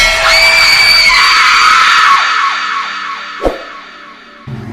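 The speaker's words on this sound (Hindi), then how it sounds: "एक भयानक चीख पूरे घर में गूंज उठी" A horrible, drawn-out scream rings through a haunted mansion as a spooky story effect, loud and echoing as it fades, followed by a sharp bang and a low rumble.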